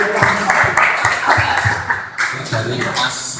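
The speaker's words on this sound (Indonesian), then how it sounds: "Bagus, dan tepuk tangan ini" Students in a vocational school class clap their hands in a loose, rhythmic burst of applause with laughter and voices mixed in.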